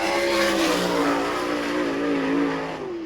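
A sprint car from the All Star Circuit of Champions races around the track at Bechtelsville, Pennsylvania, its engine roaring loud and steady at high revs with a rising and falling pitch as it comes around, under a constant track din.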